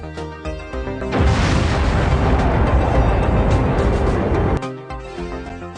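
A sustained explosion effect for the Big Bang, a broad deep rumbling roar that bursts in over a musical bed, holds loud for about three seconds, then cuts back to the music.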